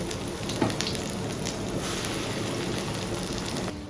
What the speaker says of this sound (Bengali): বাইরেটা এখনও পর্যন্ত ঝিরঝির করে বৃষ্টি পড়েই যাচ্ছে